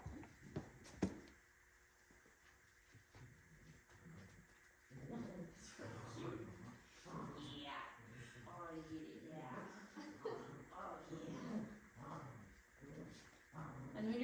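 A puppy growls in low, rumbling bursts while tugging a toy, with some whimpering yips mixed in; quiet and somewhat distant, with people talking softly at times.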